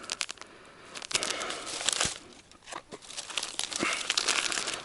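A plastic bag of fishing groundbait crinkles and rustles in close, irregular bursts of crackling handling, loud and near, with no talk.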